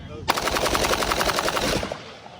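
A Daniel Defense Mark 18 rifle fitted with an Atrius G-Lever fires one fast, continuous burst of rapid shots for about one and a half seconds, loud and close, and then the sound cuts off.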